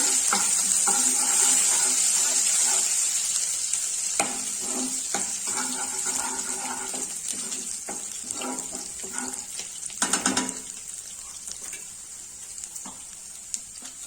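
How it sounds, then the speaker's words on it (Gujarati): Ginger paste and green chillies sautéing on low heat for pav bhaji, a continuous close sizzle with intermittent stirring scrapes and a clatter of spoon on pan near the ten-second mark, no voices. "અને પેલા નાખીશું આદુની પેસ્ટ, ત્યારબાદ મરચાં અને થોડી વાર ધીમા તાપે સાતળવાનું"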